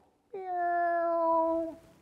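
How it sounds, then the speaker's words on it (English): A single drawn-out meow from a cat, clear and fairly close, rising in at once and holding a steady tone for about a second and a half before trailing off, heard alone against a quiet background. "who teaches the cats to meow?"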